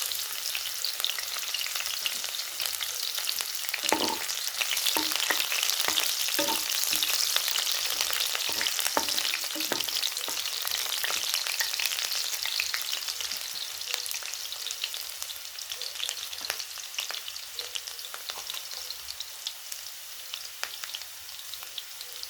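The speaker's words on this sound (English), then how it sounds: "As our cooking oil is now ready, let's add in our ingredients. That is onion and garlic." Onion and garlic fry in hot cooking oil with a loud, continuous sizzle and spatter, scattered sharp pops and stirring scrapes, close up with no talking.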